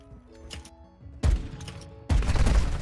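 Pistol gunfire in a Call of Duty match: two bursts of loud, close, crackling shots, separated by a brief gap and layered over game background sounds, with no talking.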